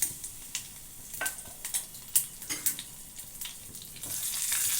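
Dried red chillies, curry leaves and garlic crackling in hot oil for a pumpkin sambar tempering, with a steady sizzle broken by sharp pops and spits, close and fairly loud, no voices.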